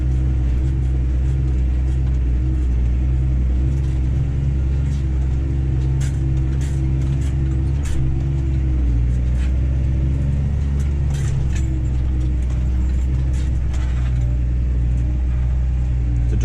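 A New Holland T7030 tractor hauling a dung spreader up a bumpy farm road, its loud, steady low engine drone continuous throughout, with rattles and clunks from jolts over the rough surface.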